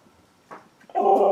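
A dog gives a brief soft whimper, then a louder sustained whine or howl close by, in a quiet room during a Halloween pumpkin-carving session.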